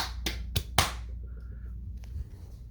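Three sharp, close hand claps in quick succession test a glass-break sensor on a home security system in a living room, followed by a short electronic tone and quiet room noise.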